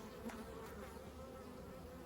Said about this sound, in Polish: ta pszczoła jest obronna, a nie jest agresywna